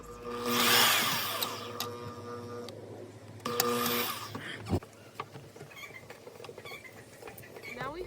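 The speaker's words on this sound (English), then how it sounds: "we'll be drilling 2 holes through these holes." A power drill whines in two bursts while drilling holes in the bodywork of a Toyota Camry, high and steady, each lasting about a second or two, followed by quieter handling noises and faint clicks.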